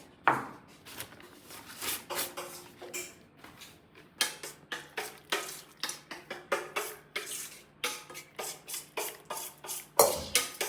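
Rapid, steady knife chops on a board as cabbage is cut for Onam cooking, a long run of close, crisp strikes with short pauses and a louder burst near the end.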